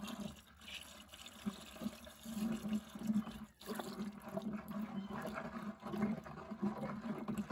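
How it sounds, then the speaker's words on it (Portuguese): Alcohol is poured into caustic soda for homemade liquid soap, giving a faint, continuous trickling liquid sound that ripples quietly and unevenly throughout. "vamos vai colocando o álcool aqui junto"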